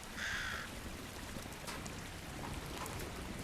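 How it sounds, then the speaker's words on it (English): A crow caws once early on, a harsh clear call heard in the video game Crisol, set against a steady hiss of rain and faint distant rumbles with no one speaking. "I heard crow"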